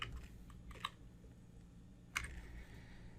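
A computer keyboard is tapped in a few sparse, faint clicks over a low hum, with scattered keystrokes and no voices.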